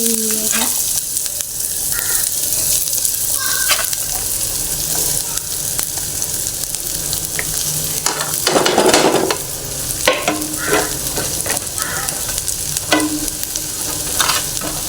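Steady loud sizzling of onions frying in hot oil, with scraping and stirring sounds throughout.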